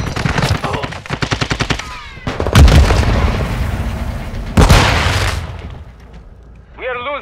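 Call of Duty Modern Warfare 2 multiplayer battle: rapid bursts of automatic gunfire, then heavy grenade blasts booming with rolling echoes, loud and close, with in-game voice callouts between the shots.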